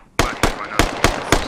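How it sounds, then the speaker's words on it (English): Five sharp, loud blasts crack out in quick succession within a second and a half of the Squad military shooter game, each a punchy explosive burst after a brief quiet start, with a frag grenade thrown just before. "I'm gonna throw a frag over there."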